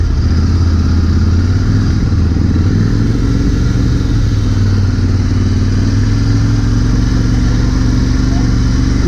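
A Royal Enfield Interceptor 650 engine runs at a steady 2500 to 3000 RPM, giving a loud, close, continuous rumbling drone with a dense low throb and constant mechanical texture, with no clear rev changes.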